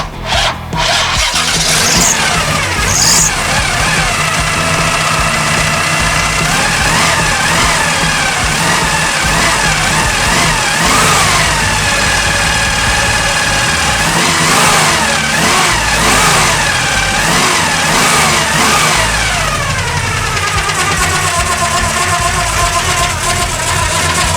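An old 1974 Chevrolet engine, started for the first time in years, cranks and catches, then runs roughly with repeated revs rising and falling, loud and close throughout.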